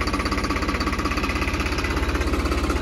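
A New Holland 3630 4x4 tractor pulling a three-bottom MB plough through a field, its diesel engine throbbing in a steady, even rhythm, loud and close, with no talk.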